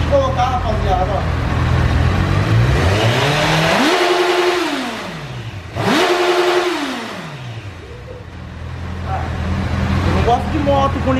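A Honda CB1000R motorcycle with its stock quiet exhaust revs hard twice, each rising sharply in pitch and dropping back to a throbbing idle, close and loud while someone talks over it.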